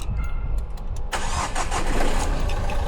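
A 2011 Nissan Qashqai J10 starts: a short starter whir, then the engine catches and settles into a loud, steady idle close by.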